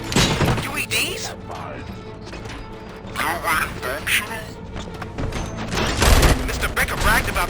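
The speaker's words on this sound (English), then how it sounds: "Gunshots? What's going on?" Bursts of gunfire with heavy thuds and shattering impacts from a shootout in Robocop Rogue City, several loud volleys spread across the stretch with voices talking throughout.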